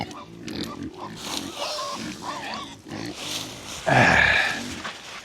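Farm pigs being moved through the woods to a new pen grunt and snuffle repeatedly up close, with a louder squeal near the end while people talk faintly in the background.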